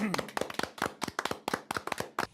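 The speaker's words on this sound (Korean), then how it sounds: "박수." Hands clap in quick, repeated bursts close to the microphone while a Korean streamer talks excitedly over them, reacting live to the announcement of President Yoon Suk-yeol's impeachment ruling.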